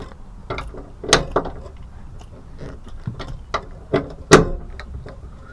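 A wrench ratchets on a Ford F250 cab mount bolt, a series of irregular clicks and sharp metallic snaps spaced across several seconds, close and fairly quiet, with no talk.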